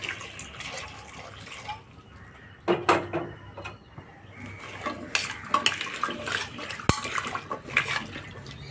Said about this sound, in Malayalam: ഇനി ആവശ്യത്തിൻ്റെ വെള്ളം ഒഴിച്ചിട്ട് ഒന്ന് വേവിച്ചെടുക്കാം